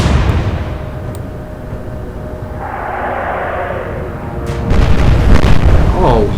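A naval gunfire salvo in the warship game Atlantic Fleet, Royal Navy against Kriegsmarine: a loud, rolling boom with a long low rumble, followed by a whistling sweep and a heavier burst of blasts.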